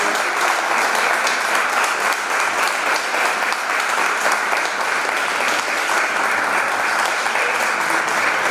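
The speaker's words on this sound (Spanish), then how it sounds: "Un aplauso para él" Sustained, loud crowd applause fills an awards ceremony for cultural prizes in Santa Fe, dense and steady throughout with no break.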